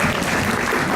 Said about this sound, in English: On the count of 3, stomp your feet and clap your hands.